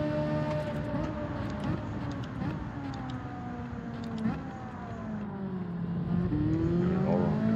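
A Ferrari engine in Gran Turismo 7 revs steadily, its pitch climbing and dropping through gear shifts across a sustained, moderately loud drone with no talk over it.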